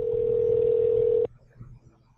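A steady telephone dial tone holds loudly for about a second, then cuts off abruptly, leaving faint background noise as a call to a national laboratory goes through.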